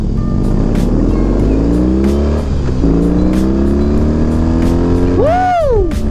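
BMW R18 motorcycle engine revving loudly up close as the throttle opens, its pitch climbing in several strong rising sweeps with a brief sharp whine near the end.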